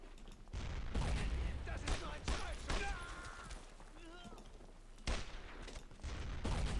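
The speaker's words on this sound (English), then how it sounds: "So you might be wondering why I'm firing from the hips." Rifle fired from the hip in the WWII video game Brothers in Arms: Road to Hill 30, loud sharp reports in uneven bursts mixed with battlefield booms and shouted voices.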